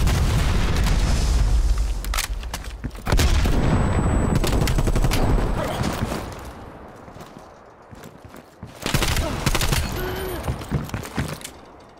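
Gunfire bursts from Call of Duty Black Ops Cold War combat, loud and dense, with rapid shots and heavy booms clustered in the first few seconds and again near the end, thinning in between.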